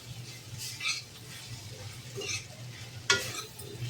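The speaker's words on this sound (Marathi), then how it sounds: "थोडासा मोठा गॅस करायचा आणि छान परतून घ्यायचं आपल्याला." Peas for veg kheema are stirred and sautéed on high heat in a pan, a steady soft sizzle with scraping spatula strokes and one sharper clack, close and alone without speech.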